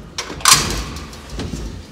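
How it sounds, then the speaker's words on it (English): The metal gate of a tiny old elevator in a Rome building slides shut with a rattling scrape and a clack, close by, followed by faint handling noise. "Let me close the gate."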